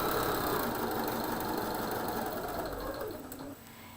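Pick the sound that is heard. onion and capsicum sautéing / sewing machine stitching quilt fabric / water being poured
sewing machine stitching quilt fabric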